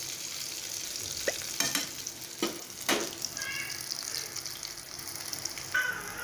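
Potato cutlets fry in hot oil with a steady close sizzle, broken by several sharper crackles and spatters as they are turned and stirred, with no talking over it.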